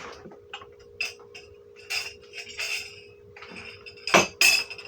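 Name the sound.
knife piercing child-proof food packaging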